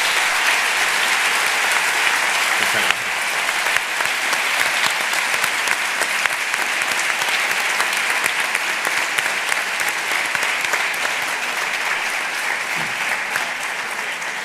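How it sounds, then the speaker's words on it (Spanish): Audience applause for panel guests at a cinema culture event, a steady broad wash of clapping lasting throughout, with a brief spoken thanks near the start. "les pido, por favor, un fuerte aplauso a estos contertulios"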